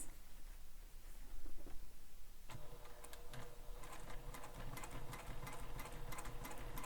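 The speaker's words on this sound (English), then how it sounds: "And now I'm going to sew the X." A sewing machine stitches an X pattern onto a backpack, its steady needle chatter quiet at first, then running faster and denser after a brief pause, close up with no talk.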